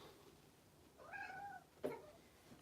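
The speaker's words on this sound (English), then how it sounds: "My cat Kachu wants a better look as well." A house cat meows twice indoors beside a desk, a drawn-out quiet meow followed by a shorter sharp one, close and alone in a quiet room.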